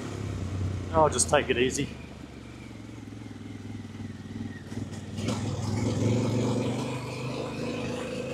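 A Harley-Davidson Pan America motorcycle rides wet back roads on new tyres, its steady low engine drone running throughout with a rise toward the end, while someone speaks briefly over it near the start.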